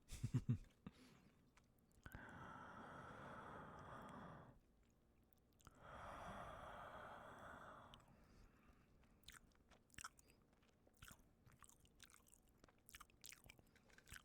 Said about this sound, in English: There's some soft eating sounds for you.